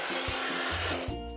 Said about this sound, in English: Let's paint over the discolorations.